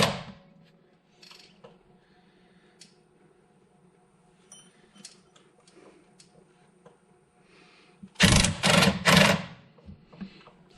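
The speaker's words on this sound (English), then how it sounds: "I'm going to have to hold it on the other side right over here, and then I'm going to put my impact over here." An impact wrench on a Regal GS rear suspension loosens a long suspension bolt nut: a loud, close, rattling hammering burst of about a second follows a quiet stretch of faint shop clatter.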